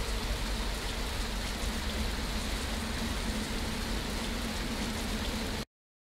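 Steady, dense rain falls throughout in the bus-driving game Fernbus Coach Simulator, a loud even hiss that stops abruptly at the end.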